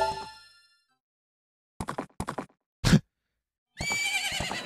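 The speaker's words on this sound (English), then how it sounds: "Get out of here, horse." Horse neighing in the video game Ocarina of Time, a few short whinny bursts followed by a longer sustained neigh, loud and close with silent gaps between them.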